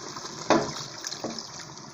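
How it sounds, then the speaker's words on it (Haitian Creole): Hot water poured into a cooking pot of meat, heard as a short, close splash-and-gush burst followed by a softer second splash, with a steady hiss underneath and no voices. "On va mettre un petit de l'eau chaud."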